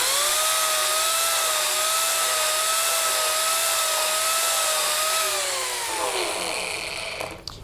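A Mini Turbo rotary carving tool cutting into wood, a steady high-pitched whine and grinding buzz held for several seconds, then winding down at the end, with no voices.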